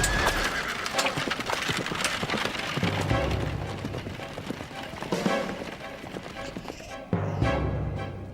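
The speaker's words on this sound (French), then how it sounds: "Cocher, fouette tes chevaux, tout droit dans le bois de sapin." Horses drawing a coach gallop with steady clip-clop hooves and repeated loud neighing and whinnying, a continuous dense rush of hoofbeats close by, briefly easing near the end before surging again.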